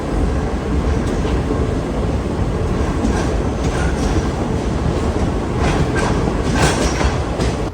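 A passenger train, the Jabalpur–Coimbatore special, rolls into a station loop with a loud, continuous rumble from inside the carriage and faint rhythmic clatter of wheels over rail joints.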